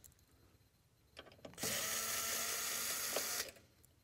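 A power screwdriver or drill whirs steadily for about two seconds, close and fairly loud, backing out screws from the plug cover on an Epson SureLab D3000 printer during sorter installation.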